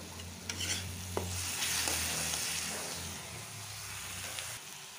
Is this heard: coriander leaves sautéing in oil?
yes